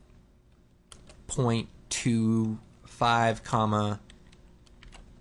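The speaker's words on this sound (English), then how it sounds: "alt-clicking, and then typing wiggle here" Faint, brief keystroke clicks from a computer keyboard sit beneath a nearby person's speech.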